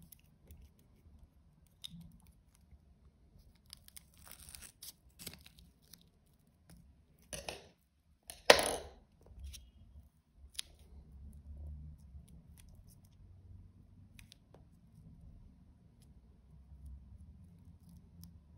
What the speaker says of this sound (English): Now I will cut the excessive parts here.